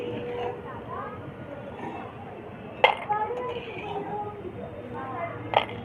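Crispy fried spiced peanuts being lifted out of a pan, a few sharp clinks and rattles of metal against the pan rising over a steady background hiss and murmur, with a voice in the background.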